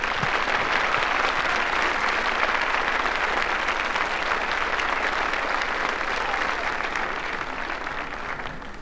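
A television studio audience in a 1983 Dutch TV show breaks into loud, sustained applause, a dense steady clapping that fills the whole stretch and only starts to thin slightly near the end.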